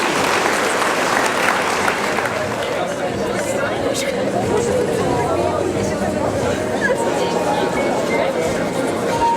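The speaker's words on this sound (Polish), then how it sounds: "Brawa dla klasy trzeciej." A school hall crowd at a high school celebration claps for the third-year class, giving dense, sustained applause throughout with chatter and voices mixed in.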